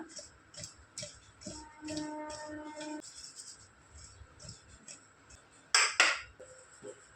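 Cut jamun fruit is being tossed with salt and chili in a bowl, giving light scattered clinks and rattles of a spoon against the dish, with one louder clatter near the end.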